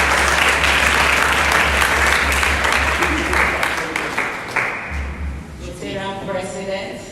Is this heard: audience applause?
yes